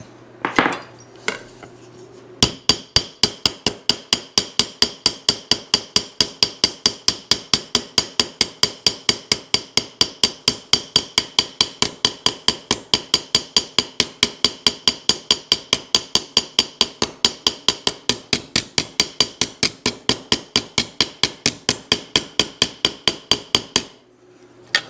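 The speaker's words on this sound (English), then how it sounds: "punch like that and hammer it like that" Small ball peen hammer dimpling a copper cuff, striking in a steady, rapid run of sharp metallic taps for over twenty seconds, close and loud, with nobody speaking.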